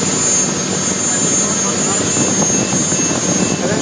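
A go-fast powerboat engine runs at a steady, loud roar, a dense continuous drone with a high whine on top that holds constant throughout, with no talking.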